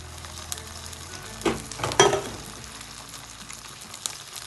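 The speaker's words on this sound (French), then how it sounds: "Maintenant, on rajoute la sauce à la ciboulette et à l'échalote." Chive and shallot sauce sizzles in a frying pan, a steady soft crackle that swells briefly as it is stirred in, fairly quiet with no talking.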